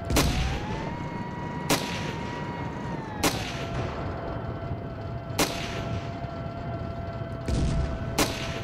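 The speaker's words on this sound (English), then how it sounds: "Incoming bazookas." Sharp bazooka and artillery blasts crack out about six times at uneven intervals in the video game Ravenfield's desert warfare, over a steady high whine and a dense rumbling battlefield background.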